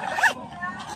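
A smooth zipper slides quickly along a thick hand-carry travel bag in one short, crisp pull, followed by quieter rustling.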